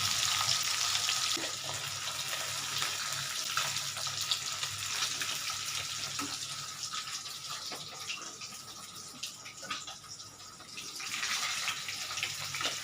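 Bhetki fish bones fry slowly in a pan, giving a continuous soft, hissing sizzle at a steady low level. The sound swells slightly near the end, and no one speaks.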